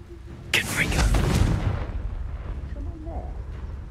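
A Confringo blasting spell goes off in the Hogwarts Legacy video game, a loud booming burst that rolls and decays over a couple of seconds, followed by quieter game ambience with a voice speaking.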